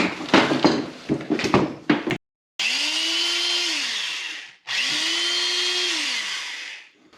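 An old electric drill, just repaired with a new cord, cleaned out and lubricated, makes a few clattering handling knocks, then runs in two loud close bursts, its motor whining up to speed and winding down each time.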